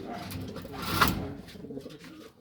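Pigeons coo softly inside a racing pigeon loft, low throaty calls blending with faint background rustling.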